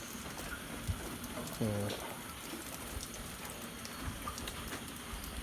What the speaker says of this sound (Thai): ฝนมันตกครับ เสื้อผ้าเปียกหนาวด้วยครับ